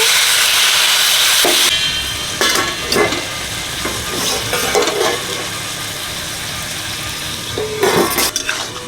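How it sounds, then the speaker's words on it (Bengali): Water poured into a hot pan of frying ginger garlic paste bursts into a loud, close hissing sizzle that settles into steady bubbling crackle, with a few utensil knocks and scrapes near the end. "আদা রসুন বাটা অল্প জল দিচ্ছি"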